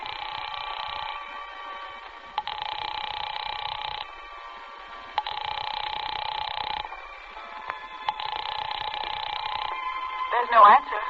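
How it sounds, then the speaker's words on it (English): A telephone rings repeatedly through an earpiece in regular bursts with pauses between, faint and buzzy, with a brief voice at the end. "There's no answer. Shall I keep ringing, sir?"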